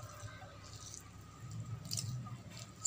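Water is wrung by hand from mashed banana stem into a separate bowl, soft wet squishing and dripping close up, quiet and intermittent.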